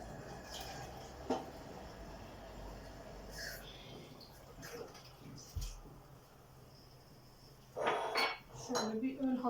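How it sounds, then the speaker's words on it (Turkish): Quiet clinks and clatters of dishes and cutlery being washed, scattered knocks over a low background, growing busier near the end. "bulaşığı önce bir yıkayalım"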